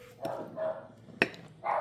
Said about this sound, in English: those dogs are having a field day out there